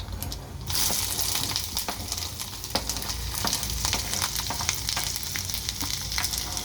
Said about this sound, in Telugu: ఇది ఏగుతుండగా మనం సన్నగా తరిగి పెట్టుకున్న అల్లం ఉంది కదండి, అల్లం వేసుకోవాలి